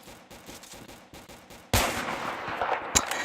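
Gunfire in the video game Kuboom: a sudden loud burst of shots that turns into sustained rattling fire and ends on a final sharp crack, after quieter ticking sounds at the start.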